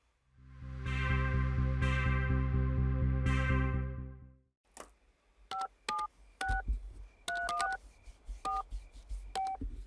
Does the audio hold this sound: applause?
no